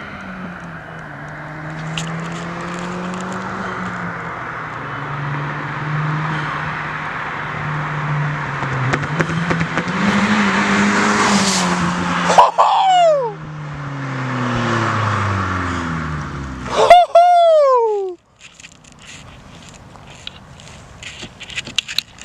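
A Hyundai Genesis with its muffler deleted approaches with a rising, raspy exhaust drone and roars past loudly, followed by a second quick pass with a sharp doppler sweep, before the sound cuts to quiet background noise.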